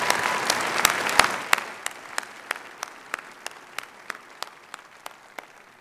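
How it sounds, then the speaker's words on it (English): Applause for a student speaker at a university commencement ceremony, a dense burst of crowd clapping that thins after about two seconds into slower, scattered individual claps. "Give Christopher another round of applause."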